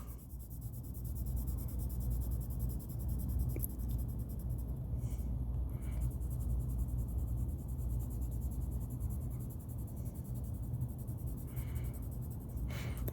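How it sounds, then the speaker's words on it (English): A pencil held on its side shades back and forth across paper in a steady, close, continuous scratchy rasp, quiet and unbroken, with no talking. "I'm coloring with the side of my pencil because it goes faster."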